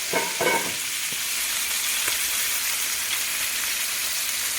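Chicken wings frying in hot oil until crispy, a loud dense crackling sizzle that holds steady throughout, with a couple of sharp stir or spatter bursts near the start, no talk.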